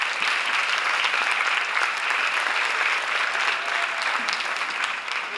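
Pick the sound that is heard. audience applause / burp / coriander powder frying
audience applause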